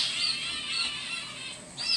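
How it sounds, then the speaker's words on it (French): Birds chirp outdoors in a busy, continuous chorus of high calls, fairly faint and steady, with no talking over them. "Ah, ils sont heureux, les oiseaux."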